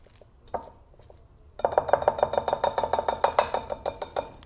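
A spoon stirs an emulsion in a bowl for sauce gribiche, served with white asparagus, giving a quick run of bright, rhythmic clinks and scrapes against the bowl after a quieter opening with a few faint taps.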